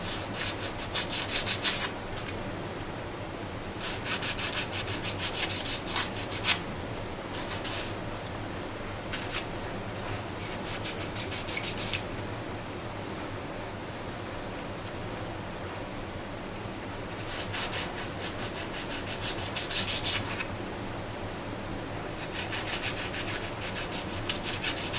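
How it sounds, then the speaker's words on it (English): Rhythmic scraping of a sanding block across wood, in several bursts separated by short pauses, close and fairly loud. "Now I just take it to my square up sanding block and sand it."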